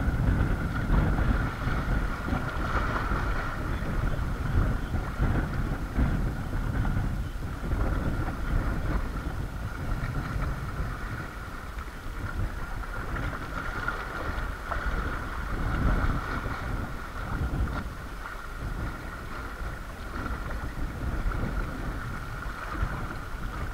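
Strong wind on a sea shore roars steadily into the microphone, a constant low rumbling buffet with faint water sloshing beneath, no voices.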